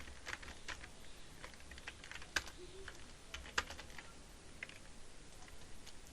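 Computer keyboard typing during an HTML coding lesson, a steady patter of light key clicks with a few sharper taps standing out, fairly quiet and close, no talking.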